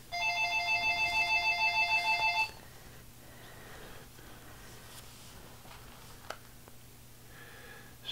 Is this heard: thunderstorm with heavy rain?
no